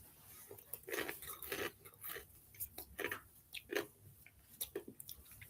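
Corn chips being crunched and chewed close to the mouth, a run of crisp, uneven bites and munches repeating at an irregular pace, quiet and without talk.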